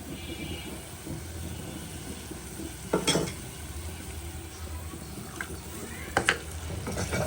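Water is poured into a pan of spiced masala being fried down for goat-trotter nihari, a steady soft sizzle with two sharp scraping stirs from a utensil against the pan, no talking.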